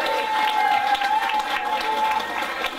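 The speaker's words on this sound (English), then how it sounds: "So, big round of applause." Audience at an acoustic festival applauding: steady, fairly close clapping from a crowd with a faint voice underneath.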